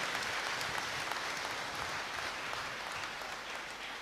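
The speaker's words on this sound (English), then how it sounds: "Those who believe in the Lord, those who have faith in the Mother of Mary, clap your hands now and praise Him." Congregation clapping hands together during a Catholic novena Mass at a basilica shrine, a steady dense wash of applause filling the hall, even and sustained throughout with no voices standing out.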